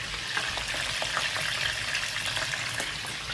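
Steady crackling sizzle of food frying in a pan, continuous and close, with no voices.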